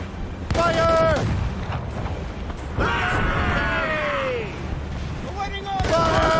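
Ship cannons firing during a naval battle in Assassin's Creed Rogue: heavy booming blasts ring out amid battle noise, while shouted commands and crew voices carry over the din.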